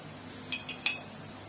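A spoon clinks lightly against a bowl three times while mixing oli bhel, puffed rice with sweet-sour tamarind chutney, soft and close over a quiet background.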